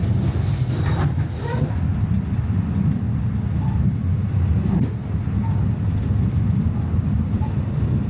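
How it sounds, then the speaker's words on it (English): Sabah State Railway train rumbling along meter gauge tracks, a close, continuous low roar with light clicks and rattles from the wheels running underneath. "the rumbling and rolling as the train makes its way down the meter gauge tracks"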